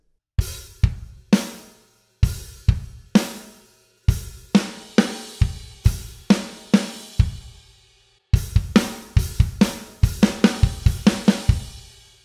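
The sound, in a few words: drum hits on snare drum and crash cymbal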